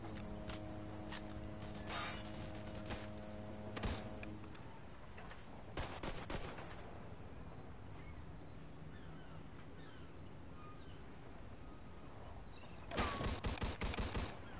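Gunfire in the Mafia 2 video game, sharp bursts of shots scattered through a quiet stretch with a tonal hum early on, ending in a rapid louder volley.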